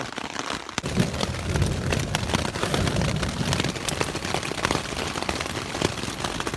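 Dense, irregular pattering and sharp taps of hail drumming on taut tent fabric overhead, continuous and close.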